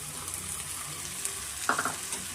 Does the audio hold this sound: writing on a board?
no